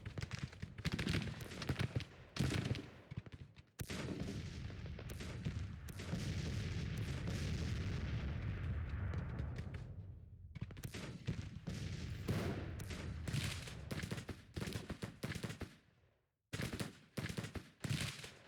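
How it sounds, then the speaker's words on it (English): Civil War artillery and massed musket fire roll through a Grand Tactician: The Civil War battle, a dense continuous rumble of cannon booms and crackling volleys with sharp individual reports, broken by a couple of short pauses. "The artillery, that's really screwing me up."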